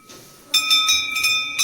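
A metal temple bell at a Shiva shrine rings in a series of bright, sharp strikes with shimmering overtones, each ring overlapping the last's decay, close and fairly loud.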